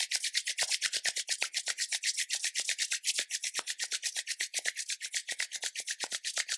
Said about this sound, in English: Bring the palms of the hands together. Let's rub the hands together,